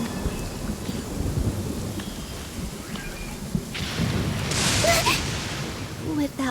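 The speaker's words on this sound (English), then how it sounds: "the sound of thunder is quite startling." Heavy rain pours steadily with deep rolling thunder rumbling underneath, swelling louder partway through, while a voice speaks faintly over the storm.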